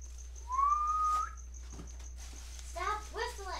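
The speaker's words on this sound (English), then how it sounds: "Stop whistling." A clear rising whistle from a person, a single drawn-out note, followed later by a few shorter chirpy whistled tones, with a steady hum underneath, during an unboxing of packaging.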